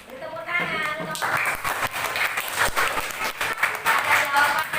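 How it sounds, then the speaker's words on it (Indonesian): Classroom applause from students, a dense burst of clapping that starts after a brief moment of a voice and carries on steadily with talk mixed in. "Beri tepuk tangan."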